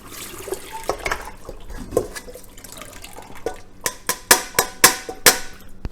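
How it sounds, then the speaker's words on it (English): Water runs from a tap over purple hull peas in a colander, a soft splashing trickle that gives way to a series of sharp, close drips and clatters toward the end. "put a little water in it and run them through my colander here, and this should get them pretty clean"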